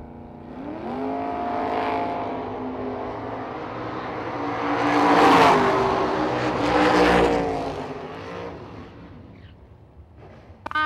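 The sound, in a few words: Capri race car on drag strip left lane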